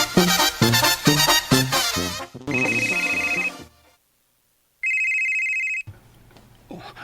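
A cellphone plays a loud melodic ringtone, with a busy musical passage and then a sustained electronic tone in two bursts separated by a short silence, close and clear, with no talking.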